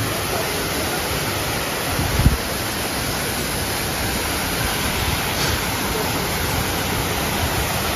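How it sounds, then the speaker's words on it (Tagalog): A waterfall roars steadily nearby as a dense, unbroken rush of falling water, with a brief thump partway through and no voices. "Ganda ng falls, oh."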